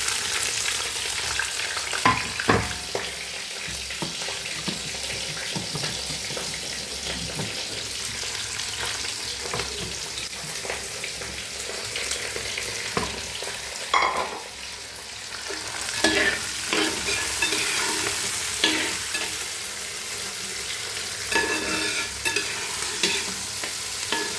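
A large onion, small onions, ginger and four or five green chillies sizzle steadily in a hot pan, with repeated scraping and stirring strokes over a continuous frying hiss.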